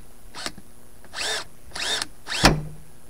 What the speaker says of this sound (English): It's a drill set on 2.